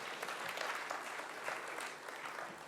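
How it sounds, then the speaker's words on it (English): An audience claps for the speakers at a regulations presentation, a steady, dense applause from many hands that stays loud and even throughout, with no talking over it. "a big round of applause for every speaker out here"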